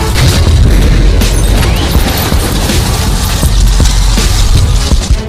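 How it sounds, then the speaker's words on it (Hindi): A loud, dense roar of bomb blast noise with repeated sharp bursts and crackling debris throughout, booming and continuous. "उसके साथ ही हुआ एक जोरदार धमाका।"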